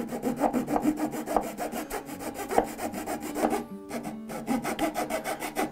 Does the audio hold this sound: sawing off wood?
yes